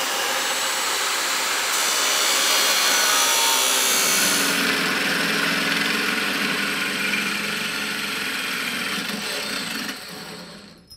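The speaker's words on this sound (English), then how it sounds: "I like notching thin tubing." Thin steel tubing for a Triumph dirt dragster frame is notched with a power tool, making a loud, close, continuous grinding whine that rises and shifts in pitch before winding down at the end.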